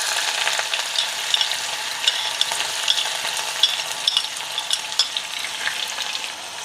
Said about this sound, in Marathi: आता कांदा 2 मिनिटं चांगला परतून घेणार आहे